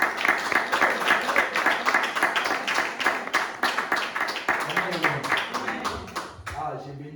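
Church congregation clapping together after a French prayer, a dense steady wash of many hands that fades out near the end with a few scattered claps, with talk mixed in.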